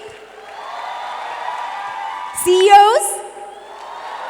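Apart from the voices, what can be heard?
audience applauding and cheering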